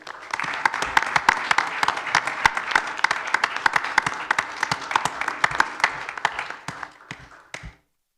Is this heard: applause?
yes